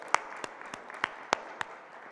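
A small audience at a panel discussion gives sparse applause, a handful of separate sharp claps spaced irregularly over a quiet room rather than a full ovation.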